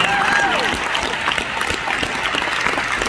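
Audience applause at a TED-style talk, steady, fairly loud clapping from a crowd, continuous for about three seconds.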